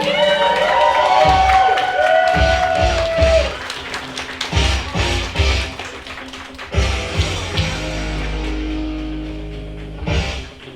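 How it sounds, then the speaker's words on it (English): A pub crowd at a poetry slam in Calgary, Alberta applauds and cheers loudly for several seconds, with scattered whoops over steady clapping that gradually tapers off. "A round of applause for Ariana, please."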